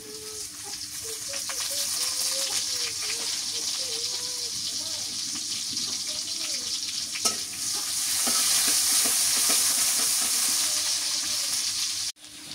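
Chopped onions fry in a pan with a loud, steady sizzle and hiss for the whole stretch while someone talks over it nearby.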